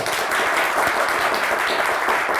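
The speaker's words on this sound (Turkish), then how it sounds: "Bir alkış daha lütfen." A TV quiz show studio audience bursts into dense, continuous applause, loud and sustained throughout with no speech over it.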